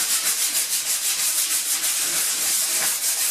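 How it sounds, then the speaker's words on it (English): Sandpaper is rubbed over a painted semi-gloss surface in quick, even back-and-forth strokes, a steady close scratchy hiss with no talking. "Right, I'll do more sanding"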